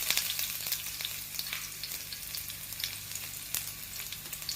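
Sliced shallots sizzle steadily in hot oil after mustard seeds have popped, a close, continuous crackling hiss with scattered sharp pops and no talking.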